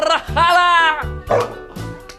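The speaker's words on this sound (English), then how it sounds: "But then he recognized that bark." An animated Chihuahua-type dog lets out a quick run of loud, high-pitched yappy barks, about four close, punchy barks in a row.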